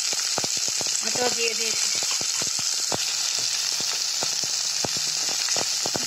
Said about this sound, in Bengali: এটাও এখন ফ্রাই করে দিচ্ছি তেলে।